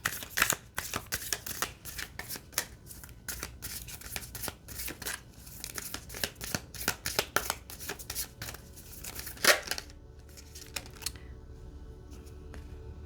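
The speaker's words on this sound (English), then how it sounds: "I'm going to pull out a card from my Isis deck." Cards from an Isis oracle deck are shuffled and drawn, giving quiet, rapid papery riffles and flicks in irregular bursts, with a final sharper slide before the sound thins out.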